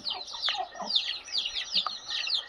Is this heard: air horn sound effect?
no